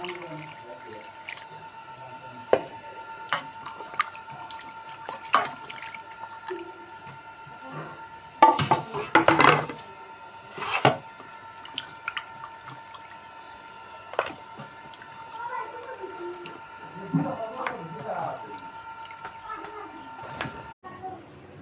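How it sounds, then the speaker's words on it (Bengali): Fish being washed by hand in water makes scattered splashes and sloshes, with one longer burst of splashing near the middle. Quiet drips fill the gaps over a faint steady hum. "মাছটা ধুয়ে নেব এখন বন্ধুরা।"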